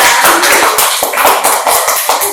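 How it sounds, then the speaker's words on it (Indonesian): Loud, close clapping from a small studio audience at a talk show, sharp individual hand claps in a quick uneven rhythm with no speech over them. "Tepuk tangan nih untuk berbagai mereka."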